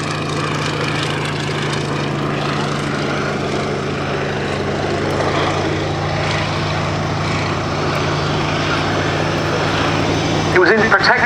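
A Fairey Swordfish biplane flying at the Yeovilton airshow, its propeller engine droning steadily and evenly throughout, with a commentator talking over it and a brief louder swell near the end.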